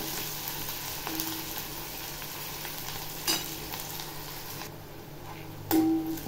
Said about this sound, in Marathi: कांदा चांगला तेलामध्ये तळून घ्यायचा, म्हणजे भाजी छान लागते